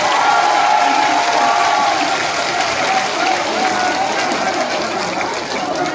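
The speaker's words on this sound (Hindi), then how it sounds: "सारे लोग अपने स्थान पर खड़े होकर दोनों हाथ से ताली बजा करके माननीय बहन कुमारी मायावती जी का स्वागत करने का काम करें" A large crowd at a political rally claps and cheers in welcome of Mayawati, a dense, steady roar of applause that stays loud for the whole stretch.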